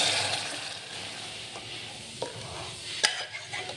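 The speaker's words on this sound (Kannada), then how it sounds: "ಇದನ್ನ ಈ ಥರ ಫ್ರೈ ಆದಮೇಲೆ ಇದಕ್ಕೆ ನಾನು ಹೆಸರುಬೇಳೆನ ಆ್ಯಡ್ ಮಾಡ್ತೀನಿ" Moong dal sizzles in a frying pan as a spoon stirs it, a steady frying hiss with a few sharp scraping clicks, close and fairly quiet.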